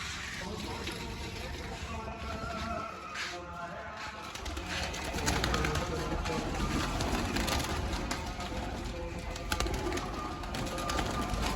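Pigeons coo softly amid a busy background of other birds and noise, with faint voices in the distance.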